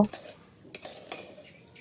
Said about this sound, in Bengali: এবার ভালোভাবে নেড়ে চেড়ে দিব, উপর নিচ করে দিব।